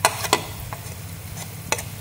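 Faint sizzling of garlic frying in oil in a pot, with a few sharp clatters of a utensil stirring, mostly quiet hiss between scrapes.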